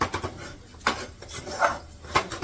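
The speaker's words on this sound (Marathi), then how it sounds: "पुन्हा चांगलं मिक्स करून घेते" A spoon stirs sugar into puran, a sweet lentil filling, in a cooking pot, giving a run of scraping and rubbing strokes with a few louder knocks against the pot's side, close and steady.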